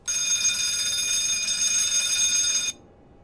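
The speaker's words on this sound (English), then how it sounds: "let's do a quick fire detection test. I quite like doing these. I love the little ringing sound." A fire detection test bell rings in the cockpit of a PMDG DC-6 airliner in a flight simulator, a loud continuous metallic trill lasting under three seconds before cutting off abruptly to quiet.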